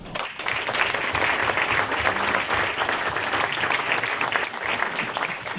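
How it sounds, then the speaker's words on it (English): Steady applause from an audience at a ministerial technology speech, filling the room with dense, continuous clapping for the whole stretch and no voices over it. "please join me for a round of applause for Mark"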